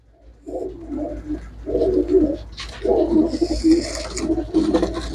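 Pigeons, sold as purebred birds, coo in repeated low, throaty bursts, several calls overlapping at close range, with a faint higher rustle or chirp in the background and no talking.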